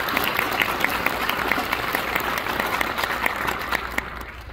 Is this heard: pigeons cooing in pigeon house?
no